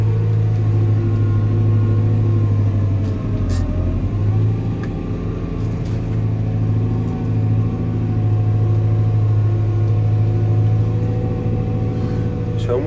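Fendt 313 tractor engine working through muddy field ground: a loud, steady close-up diesel rumble with a constant low drone and a brief dip in load, with no gaps throughout.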